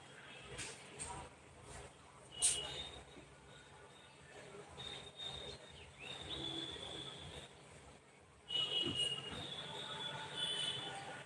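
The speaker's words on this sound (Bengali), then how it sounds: "ট্রেন আসছে" A train rumbles nearby with high metallic wheel squeals rising and fading, growing louder toward the end.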